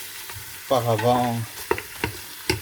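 Meat browning in a preheated saucepan for a royal couscous with three meats, a steady sizzle under someone speaking French, followed by a few sharp clinks of a utensil against the pan.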